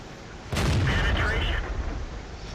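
A tank cannon fires in the World of Tanks video game, one sudden loud blast followed by a sustained roaring rumble and ringing tail that slowly fades.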